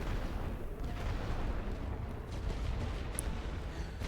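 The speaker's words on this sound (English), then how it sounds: "He says right before artillery strikes." Artillery barrage in the World War I strategy game The Great War: Western Front, a dense continuous rumble of distant shelling and booms with a faint sharp crack near the end, no talk.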